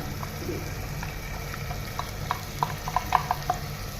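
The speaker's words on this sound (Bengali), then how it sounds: "এর মধ্যে আমি অল্প একটু দই দিয়ে এটাকে মিশিয়ে নেব" Chili and turmeric powder are stirred into curd to make a paste, giving soft, wet scraping and squelching. A run of small clicks, like a spoon against the bowl, comes toward the end. The sounds are moderately close and there is no talk.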